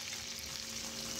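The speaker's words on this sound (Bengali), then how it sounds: "সাদা তেলের মধ্যে সর্ষে ফোড়ন দিয়ে দিয়েছি আর কাঁচা লঙ্কা কুচি দিয়েছি" Mustard seeds and chopped green chili sizzle in hot white oil during a tempering, a steady close hiss with faint crackle that holds evenly for a moment with no voices.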